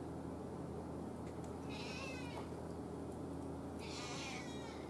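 A domestic cat meows twice, each call clear and fairly close, over a steady hum of room noise in a workshop where an old 1930s DeWald radio is being restored.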